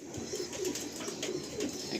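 Pigeons cooing softly inside a loft, several low repeated coos against a faint background hum, with no one speaking.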